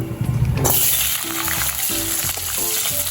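Cut potatoes drop into hot mustard oil with toasted whole cumin, bursting into a loud, steady sizzle that crackles on close by with no talk.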